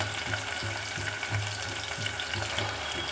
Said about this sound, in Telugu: ముందుగా కట్ చేసి పెట్టుకున్న ఆనియన్స్ని ఆయిల్లో పచ్చివాసన పోయేంత వరకు వేయించుకోవాలి